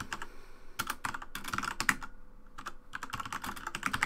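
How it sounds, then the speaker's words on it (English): Rapid keystrokes on a computer keyboard in short irregular bursts with brief pauses, close and clear, while notes on a M.A.S.S Builder game are being written up; no talking. "I'm just typing this up here."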